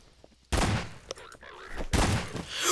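Gunfire in Garry's Mod: two sharp, loud bursts of shots separated by a brief lull, each trailing off into echoing noise, with faint game sounds between them.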